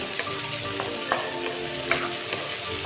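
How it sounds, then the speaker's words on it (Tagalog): Tomatoes sautéing for pinakbet in a pan, a steady close sizzle with scattered soft scrapes and clinks of stirring throughout. "So ilagay natin yung ating kamatis. Ayan guys, haluin lang natin siya."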